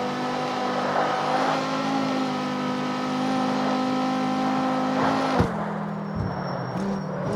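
A tuned Dodge Viper engine in the street racing game CarX Street holds a steady high rev, a sustained whining drone with a sharp cut and brief stutter near the end.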